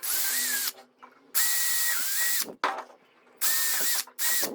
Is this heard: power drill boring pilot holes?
yes